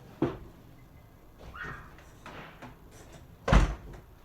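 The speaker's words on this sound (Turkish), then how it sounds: "Birden kapı açıldı." In the Granny Chapter Two video game, a door opens with a sharp wooden knock, then soft creaks and shuffles, and ends in a louder thump as it swings. The sounds are close and there is no talking.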